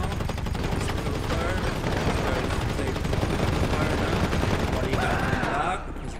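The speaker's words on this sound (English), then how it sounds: "I don't get stuck, so I'm gonna be shooting right now." Dense, continuous gunfire fills a video game shooter battle, heavy overlapping shots and volleys at steady loudness, with a voice talking over the shooting.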